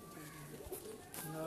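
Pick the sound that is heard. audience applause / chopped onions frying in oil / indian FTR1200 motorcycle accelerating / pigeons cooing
pigeons cooing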